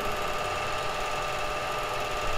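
A DC motor in a lab setup hums steadily and continuously, its whine holding even throughout as voltage is raised, with no talking.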